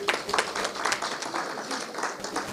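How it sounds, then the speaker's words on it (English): A conference audience at a teachers' union provincial general council applauds, a dense wash of many hands clapping at moderate distance, fairly faint and steady for the short stretch. "A round of applause."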